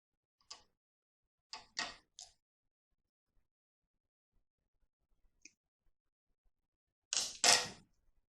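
Scissors cutting through two layers of dress fabric, several short crisp snips in small clusters separated by quiet gaps, with one louder double snip near the end, close and alone.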